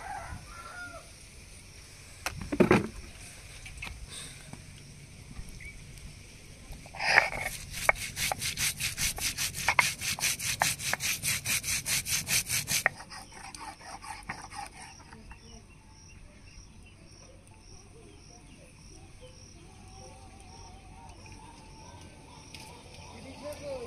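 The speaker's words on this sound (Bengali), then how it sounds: "এবার জিরা বেটে নেবো।" Cumin ground into paste on a grinding stone for shukto, a rapid rhythmic scraping and rubbing that runs for about six seconds, with quieter kitchen noise before and after.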